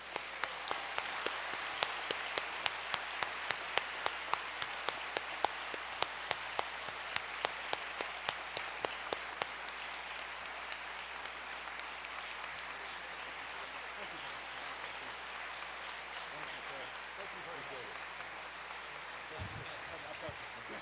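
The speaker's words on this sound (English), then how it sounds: "let us give these two candidates a round of applause" An audience at a mayoral candidates' meeting applauds, starting with loud rhythmic unison claps that loosen into a softer, scattered round of clapping, with people's voices murmuring underneath.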